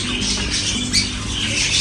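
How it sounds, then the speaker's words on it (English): Caged pigeons and other birds in a pet section inside a supermarket in North Cyprus keep up a dense, close chatter, with an occasional sharper squawk rising above it. "Pigeons, birds."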